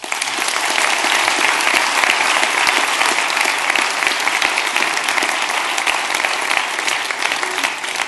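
A conference audience gives a sustained round of applause for the speakers at the close of a marketing event, dense, loud clapping that holds steady throughout without pause.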